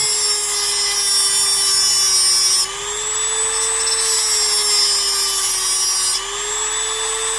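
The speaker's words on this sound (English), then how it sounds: "So very carefully with your Dremel, and it does get hot, so be careful." A Dremel rotary tool cuts a channel into a wooden calligraphy dip pen, a steady high-pitched whine with a slight pitch dip partway through, continuous and close with no talking.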